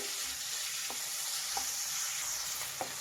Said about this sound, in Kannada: ಈರುಳ್ಳಿನ ಚೆನ್ನಾಗಿ ಫ್ರೈ ಮಾಡಬೇಕು